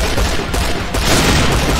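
Dragunov sniper rifle fire in the shooter game Point Blank, loud and close, with dense overlapping bursts and booms filling the moment, including a couple of sharp separate reports.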